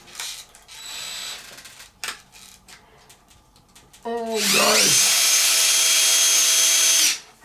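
A power drill backing screws out of the back of a Traxxas Xmaxx RC car, short whirring bursts followed by a longer sustained high-pitched whine, close up, with a voice speaking softly between bursts.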